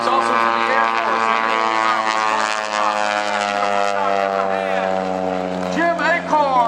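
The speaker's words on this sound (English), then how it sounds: "Beautiful little aerobatic airplane, very small, tiny little airplane." A tiny Pitts S1S aerobatic biplane performs at the Courtland Air Show, its engine droning loudly and steadily with a strong harmonic hum while an announcer talks over it throughout.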